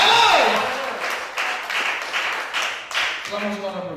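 Congregation applauding during a Sunday church service, a broad wash of clapping that swells and holds for several seconds while a voice rises over it at the start and again near the end.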